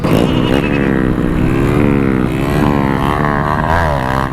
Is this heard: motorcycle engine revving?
yes